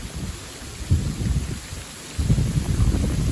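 A surprise winter hailstorm with thunder: a steady hiss of falling hail and rain, broken by deep rolling rumbles that swell and fade, with no voices.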